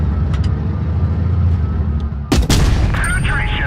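A single loud, sharp cannon blast from a tank firing a tungsten shell in a tank battle video game, cutting abruptly through a steady low engine rumble, followed by a brief ringing tail.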